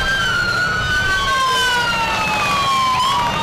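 Louisiana State Trooper motorcycles roll past in a Strawberry Fest parade with sirens wailing, several overlapping rising and falling siren tones over steady engine and crowd noise.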